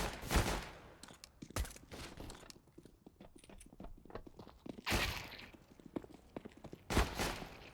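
Sharp pistol shots from a P2000 in a competitive video game match, a handful of loud, separate cracks spaced a couple of seconds apart, with quieter footsteps and clicks between them.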